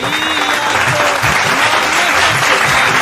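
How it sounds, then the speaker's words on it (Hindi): An audience at a devotional Krishna–Sudama jhanki song performance claps with both hands raised, a loud, dense and steady wall of applause that carries on unbroken without any talk. "एक बार फिर से दोनों हाथ ऊपर करके मीठी मीठी तालियां"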